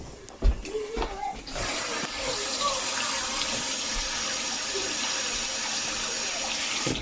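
Food being washed under a kitchen tap for Thanksgiving stuffing, a steady, fairly loud rush of running water that follows a few clatters at the start and continues without a break.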